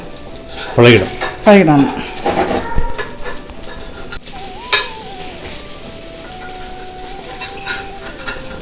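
Oil sizzles on a new cast iron skillet while mini uttapam batter cooks, a steady frying hiss with scraping and stirring clatter from a utensil, close up, under brief speech.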